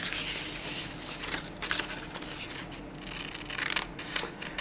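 Scissors trimming the edge of a sheet of wallpaper, quiet continuous snipping and rustling with faint paper crinkles throughout, close by.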